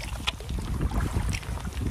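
Canoe paddle strokes dipping and pulling through water on a camping trip in light rain, steady close splashes and swishes over wind noise on the microphone.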